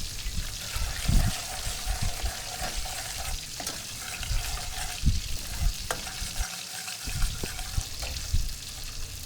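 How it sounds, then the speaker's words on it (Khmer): Sugar being stirred into fish sauce in a cooking pot, with steady scraping and swirling strokes close up, broken by a few louder clinks and knocks against the pot and a light sizzle underneath, and no talking. "ហើយយើងព្យាយាមកូរស្ករសជាមួយនឹងទឹកត្រីនឹងឲ្យវាចូលជាតិគ្នា"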